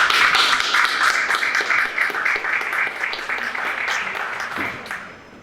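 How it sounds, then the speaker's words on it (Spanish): Audience applause greets a guest speaker at a cultural heritage talk, a lively burst of close clapping that carries on steadily, then thins and fades out near the end. "les pido un muy fuerte aplauso para él"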